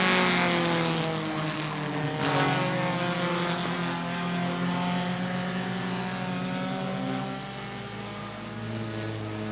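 Short track race cars lap a track in a sustained engine roar that rises and falls in pitch as the pack passes, loud and continuous throughout.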